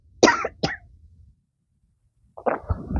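Two sharp coughs close to the microphone, a brief silence, then another rough cough with throat clearing.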